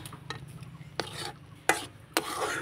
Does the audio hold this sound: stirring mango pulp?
yes